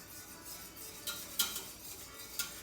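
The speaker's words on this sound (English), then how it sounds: "Now the key to making lump-free grits is to add the grits slowly and whisk the entire time." Grits are whisked into a pot a little at a time, making quiet swishing strokes with a few light metallic clinks against the pot, no voices.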